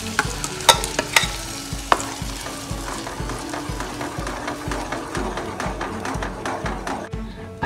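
A spoon stirs masoor dal paste, freshly added with ginger, around a hot pan for lentil soup. It gives a steady run of rhythmic scraping taps over a low sizzle, close and fairly loud.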